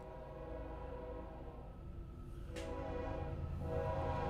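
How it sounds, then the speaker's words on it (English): A train rumbles loudly past close by, a steady heavy roar of wheels and cars with a sharp horn blast cutting through partway, continuing without talk. "Train's coming by. It's loud."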